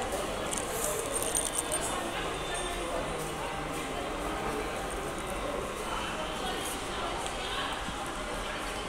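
Keys to a newly bought car jangle continuously for several seconds amid a dense, noisy background wash.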